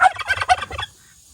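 A turkey lets out one rapid, rattling gobble, close and loud, lasting under a second before falling quiet.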